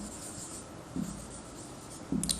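Marker or chalk scratches on a classroom board in two short strokes close to the mic, with a steady background hiss and no talking.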